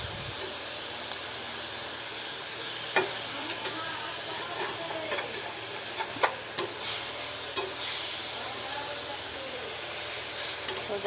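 Sour mango curry with crisply fried fish cooking in a pan, green chilli and slightly ripening tart mango, sizzling and hissing steadily with occasional stirring scrapes and clicks, close and moderately loud without speech.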